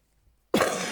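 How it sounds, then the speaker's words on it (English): A woman doing slow stitching coughs once, abruptly and close, after a moment of near silence, a single sharp harsh burst that holds to the end. "I'm still coughing"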